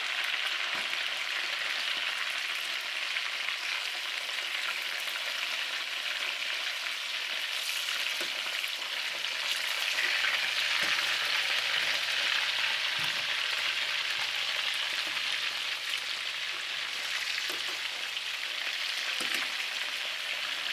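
Lemongrass pork chops frying in oil, a steady close crackling sizzle that carries evenly throughout with faint occasional pops.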